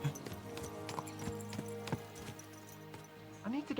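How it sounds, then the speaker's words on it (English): Horses galloping in the video game Kingdom Come: Deliverance II, quick rhythmic hoofbeats running steadily under a music bed, with a short whinny near the end. "Let's really spur these horses on, eh?"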